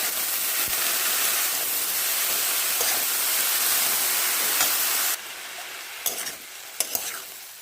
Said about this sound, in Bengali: এবার আমি দিয়ে দেবো শাক আর আলুটা, ভাজা আলু আর শাকও দিয়ে দিলাম। এবার ভালো করে আমি মিশিয়ে দেবো।